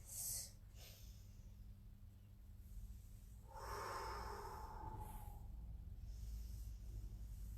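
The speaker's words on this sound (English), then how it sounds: "Nice deep breaths." Slow, deep breathing during a pilates stretch, a soft airy inhale and a longer drawn-out exhale, faint and close over a low steady background hum, with no talking.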